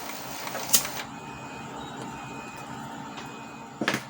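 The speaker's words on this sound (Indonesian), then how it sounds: "Kita tunggu kalibrasi atau head clean-nya ya." An Epson L120 inkjet printer running calibration or head cleaning: a sharp mechanical clack, then a steady low motor hum with faint whirring, ending in another cluster of clicks as the carriage moves.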